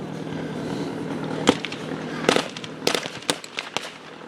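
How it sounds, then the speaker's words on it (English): Gunfire at a World War One battle reenactment, rifles and an MG08 machine gun cracking in scattered sharp bursts over a steady rumble of crowd and engine noise outdoors, with talk underneath. "German army firing back with rifles and also with an MG08 machine gun"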